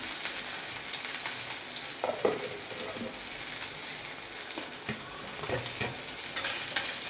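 Katla fish frying in a pan gives a steady bright sizzle, with occasional soft scrapes and clinks of a utensil, close and moderately quiet throughout.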